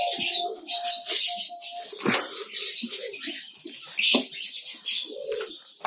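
Sharp, shrill chirps and squawks from several lovebirds in a colony, nearby and irregular, with brief coos and rustling between calls.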